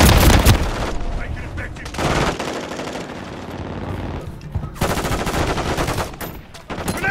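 Automatic weapon fire in a Call of Duty team deathmatch, rapid loud bursts and scattered shots close by, with brief pauses and voices speaking between volleys.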